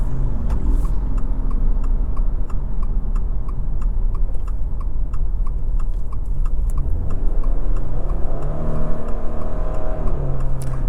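A 2024 Subaru Crosstrek Limited with a CVT drives through the city, heard from inside as a steady road and engine drone under an even, regular ticking, likely from the turn signal.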